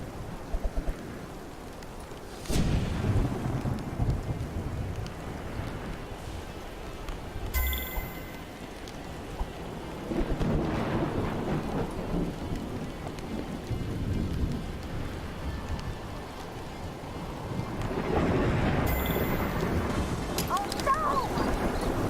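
Thunderstorm in the VR wingsuit game RUSH: steady rain hiss with deep rolling thunder swelling several times, loud and continuous throughout, with a few brief high tones cutting through.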